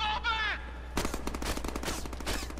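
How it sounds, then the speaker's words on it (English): Automatic gunfire in the Deadpool video game, a rapid burst of shots following a short shouted voice, close and fairly loud. "Stop shooting me!"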